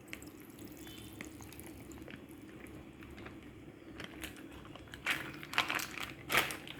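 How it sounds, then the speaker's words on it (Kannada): Milk poured into a mango-melon milkshake, a quiet wet trickle rising into a few louder splashy bursts toward the end, with no talking. "ಈಗ ಹಾಲನ್ನು ಹಾಕ್ತಾಯಿದ್ದೀನಿ."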